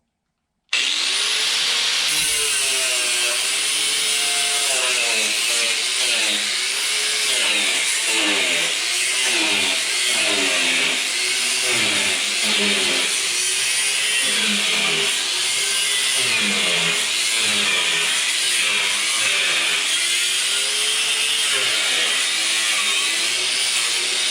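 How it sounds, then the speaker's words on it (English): A cutoff wheel grinds across a steel solar oven cooking tray, a loud continuous whine that rises and dips in pitch with repeated passes over the metal, running the whole time with no talk. "After we do our final cleanup with the cutoff wheel"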